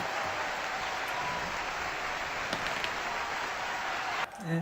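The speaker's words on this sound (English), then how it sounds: "They mildly applaud." A crowd in a DreadBall tabletop game match gives steady, light applause, a continuous patter of clapping that stops abruptly just before the end.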